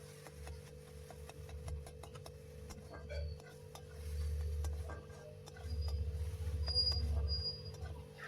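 Fried ash gourd is stirred in a pan, giving quiet scraping and clicking strokes over a low, swelling rumble of heat from the stove.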